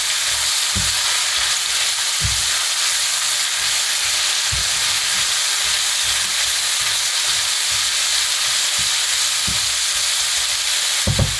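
Mushrooms for a bhuna curry sizzle loudly and continuously in a pan, with a bright hiss throughout and low knocks every second or two as a utensil stirs them.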